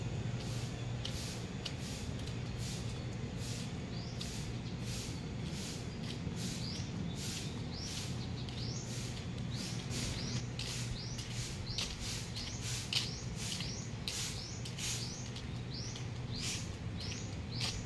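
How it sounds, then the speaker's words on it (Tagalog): Birds singing on Boracay Island in the off season, repeated short chirps and whistled calls spread evenly over a soft, constant background hiss, fairly faint and with no one talking. "Pakinggan nyo guys, ang sarap sa tinga yung huni ng ibon."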